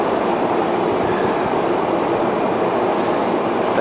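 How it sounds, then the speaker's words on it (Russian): A Moscow metro train rumbling loudly and steadily at close range, a dense roar filling the whole stretch with no pauses. "Столичное метро."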